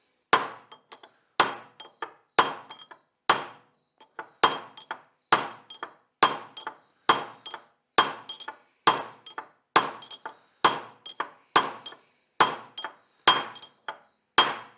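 A bearing race driven into its seat on a 1973 Larson boat's Mercruiser 120 hp sterndrive, struck by a hammer in a steady series of sharp, ringing metallic blows at close range, about one per second, with no talk.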